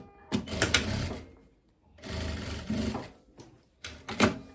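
Sewing machine runs in three short bursts of rapid mechanical stitching while sewing a wool parka collar, close up, with pauses between runs.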